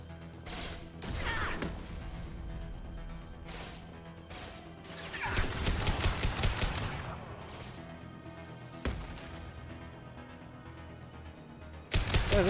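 Impact shot fired into a wall in Mass Effect 2, a video game: sharp crashing blasts with a dense burst near the middle and more hits later, over steady game ambience.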